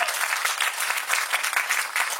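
Dense, even applause from an audience at a Baku Independence Day celebration event held in Moscow, steady clapping filling the short stretch.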